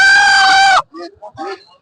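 A chicken for sale at a village market gives one loud, strained crow-like squawk, followed by brief, broken voices nearby.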